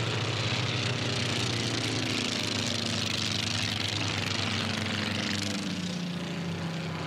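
A Formula One class race airplane roars past a pylon at the Reno Air Races, a loud, steady propeller-engine drone with a slowly falling pitch as it sweeps by, with no talk over it.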